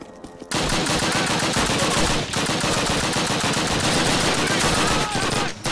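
Sustained rapid automatic gunfire in Call of Duty during a World War II Warsaw tank factory battle, loud and dense bursts almost filling the clip after a brief quiet start, with short pauses between volleys.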